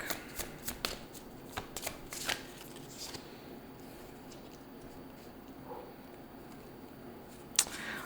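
A tarot deck is shuffled close up, with soft riffling and papery flicks, a burst of quick card snaps early on, a calmer stretch, then one sharp snap near the end and no voices.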